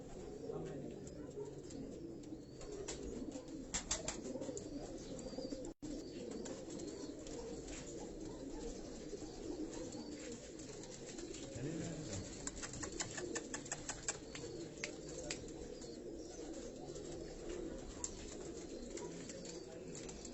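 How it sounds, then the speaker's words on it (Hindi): Rampuri and Teddy cross pigeons coo softly in a loft in Karachi, low repeated calls over faint background noise with scattered sharp clicks and flutters. "ये जो रामपुरी और टैडियों के क्रॉस कबूतर ये हाजी साहब आपको दिखा रहे हैं"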